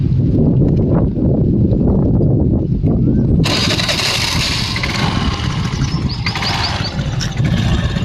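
A 2012 Mahindra Maestro scooter engine turns over and catches partway through, its buzzing roar suddenly filling the air above a low mechanical rumble.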